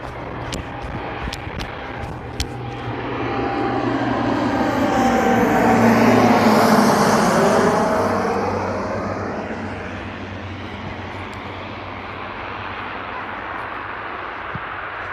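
A fixed-wing airplane passes overhead while plane spotting in Chofu, Tokyo, its broad engine roar swelling from a distant hum to a loud peak midway, then slowly fading, with no talk.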